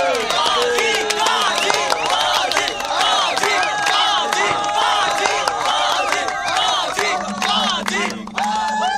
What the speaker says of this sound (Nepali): उहाँलाई जोरदार तालीले स्वागत गरौँ प्लिज